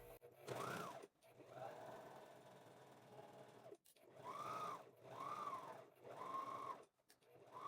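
A domestic sewing machine stitches a seam with its presser foot, running in several steady bursts of rapid mechanical whirring separated by short pauses, close and fairly loud with no talking.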